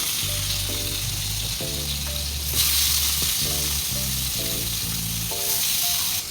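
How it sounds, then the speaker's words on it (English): Fish sizzling steadily in hot oil in a pan, a loud continuous fry with a brief surge of spitting midway, heard alone over a low background hum. "After the oil is already hot, then we start putting the fishes."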